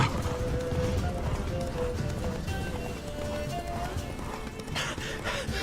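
Rapid hoofbeats of a galloping horse in The Witcher 3: Wild Hunt pound steadily under a dense layer of game music and effects, with a brief whinny-like cry.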